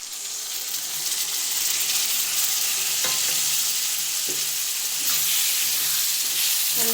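Big chili pickle being stirred in a hot pan with lemon juice, Bihari style, giving a steady close sizzling fry with scraping stir strokes throughout and no talk.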